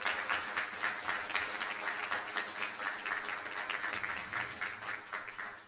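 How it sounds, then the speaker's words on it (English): Sustained applause from a board meeting audience honoring the 2026 Woman of the Year, a steady even crackle of many hands clapping throughout at moderate distance, with no voices over it. "Woman of the Year by Assemblymember DeMaio, which I think calls for a huge round of applause."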